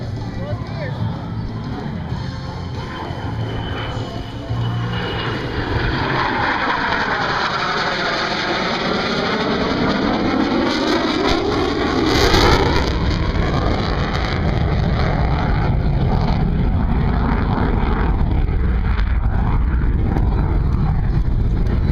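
An F-18 Super Hornet makes a photo pass at an airshow in Southern Wisconsin: a loud, continuous jet roar that swells and sweeps downward in pitch as it passes, with an announcer talking over it throughout.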